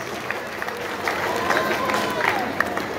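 Outdoor crowd applause for dancers at a town fair, a steady wash of many hands clapping at a distance, moderately loud and continuous with scattered sharper claps and a murmur of voices.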